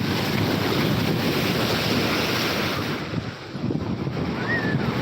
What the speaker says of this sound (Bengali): সেই আমাদের দীঘার সমুদ্র এই জলে উত্তাল দেখতে পাচ্ছ কতটা